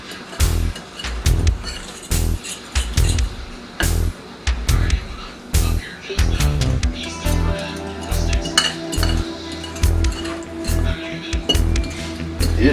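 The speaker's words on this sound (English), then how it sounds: "we're going to stir this up and we're going to taste it" A utensil clinks and scrapes against a bowl while a seasoning mixture with seasoning salt is stirred for a fried chicken dish, producing a busy, repeated rattle of close clatter with no talking.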